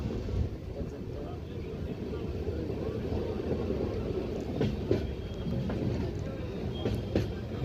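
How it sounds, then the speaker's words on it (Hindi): A passenger train at full speed between Hajipur and Mahnar Road, heard from inside: steady low rumbling roar with faint wheel clicks and occasional rattles, continuous and moderately loud. "हमारी ट्रेन दाम रफ्तार पर आ चुका है, देख लीजिए।"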